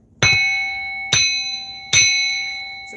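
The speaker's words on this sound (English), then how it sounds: "Let me ring this bell" A bell is struck three times at an even pace. Each ring is clear and bright, starts sharply and rings on, with a new strike coming before the last one fades. No voices are heard.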